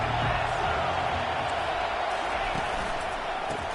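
A big stadium crowd at a Georgia versus Ohio State football game roars in a dense, steady wall of cheering, loud and sustained throughout.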